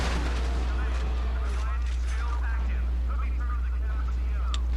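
Booming grenade blasts and gunfire erupt in the Iceland level of the shooter game Resistance 2. The loud, deep rumbles and sharp shots sound close, and someone talks over the noise.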